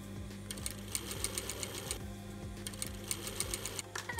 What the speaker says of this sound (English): we are ready to do a nice little baste stitch to hold it all in place